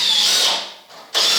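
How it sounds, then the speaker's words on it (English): A power drill drives screws into a wooden reloading bench, a loud continuous whine that sags as it slows, pauses briefly, then surges back at full speed. "You notice I'm putting a lot of downward pressure on my drill when I'm doing this."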